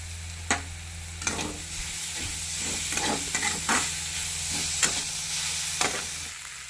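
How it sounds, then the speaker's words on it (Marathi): Potatoes sautéing in a pan with turmeric for a quick potato bhaji, a steady close sizzle broken by sharp scraping stirs every second or so, with no voices. "ह्याच्यात मी बटाटा घालते आणि बटाटा जो आहे आपला चांगला परतून घ्यायचा"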